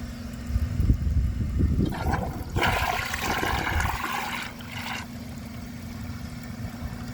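A 2006 Vitromex Marathon II comfort-height 1.6 gallon toilet flushes, a loud rushing swirl that builds for a few seconds and then eases into a quieter refill hiss.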